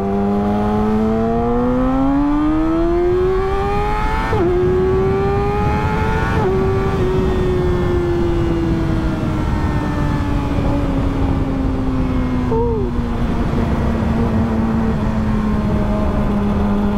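A motorcycle engine revs hard and accelerates up through the gears, loud and close, its rising pitch climbing, dropping at each shift, then holding high; no one talks.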